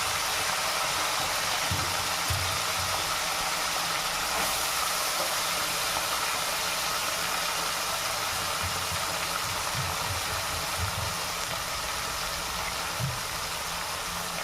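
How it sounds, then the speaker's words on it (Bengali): Muri fish fries with onion stalks and potato in hot oil, giving a steady, close sizzling hiss that runs unbroken throughout with no voices. "মুড়ি মাছ ভাজা হচ্ছে পেঁয়াজ কলি দিয়ে ভাজা"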